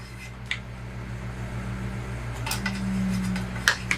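A metal spoon scrapes and taps around a pot of melted candle wax blended with fragrance oil. The scrapes are soft and come close together, with a few sharper clinks near the end, over a steady low hum.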